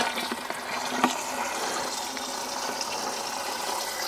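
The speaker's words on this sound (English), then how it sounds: "Just got a hose pipe" Water rushes steadily from a hose pipe into a watering can at an off-grid homestead in Portugal, a continuous close gushing fill with no talking.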